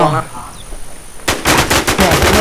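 Gunfire in the shooter game Infestation begins after a quiet stretch, with a rapid burst of loud automatic shots. Voices talk faintly in the background.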